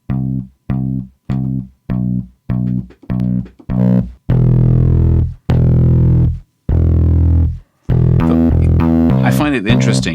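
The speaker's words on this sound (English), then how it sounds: "If you turn it on, some saturation you hear." Bass guitar through a saturation distortion plugin, notes played in short plucked bursts, then longer sustained tones with a gritty, saturated distortion, loud and alone.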